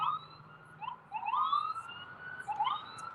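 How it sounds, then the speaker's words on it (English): Police sirens wail through a city at night, several overlapping rising and falling tones sweeping at a moderate distance over a steady low urban hum, with no talking. "There's sirens everywhere."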